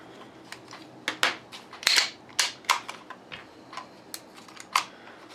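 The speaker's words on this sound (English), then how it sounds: "Your slide should lock because there's no ammo in the mag." A Walther PPK BB pistol gives a series of sharp, close metallic clicks and snaps as its slide is worked and locks back on an empty magazine, irregular and fairly quiet, with no voices.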